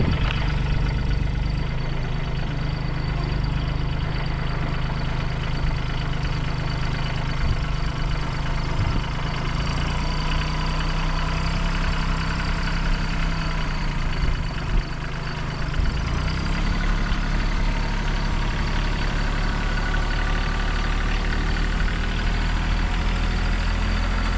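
A Bad Boy 3026 compact tractor engine runs steadily at idle throughout, a close, loud, low droning rumble with a constant tone and no talk over it.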